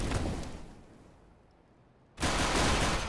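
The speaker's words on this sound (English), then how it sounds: "MSL taking that frag down, and now it's a 3v2 with 1 AK and 1 Deagle" Rapid gunfire from a Counter-Strike match plays as loud, dense bursts, fading briefly into a quieter lull before another sharp burst cuts back in.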